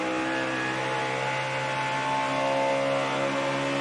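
Onboard sound of a failing Roush Yates NASCAR race car engine at the 2009 Kobalt Tools 500, a steady loud droning whine with strong harmonic tones, holding an even pitch with a slight rise late on, no voices.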